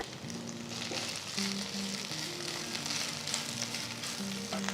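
Steady crackling sizzle of fresh mint leaves frying in sesame oil in a pan, dense and continuous, with occasional soft stirring scrapes and no voices.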